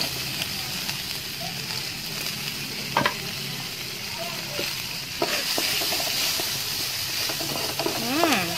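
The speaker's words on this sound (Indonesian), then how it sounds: "Kita tumis." Shallots, garlic and chili stir-fry in a hot pan with steady sizzling, broken by a few scraping stirs and clinks of a utensil close by.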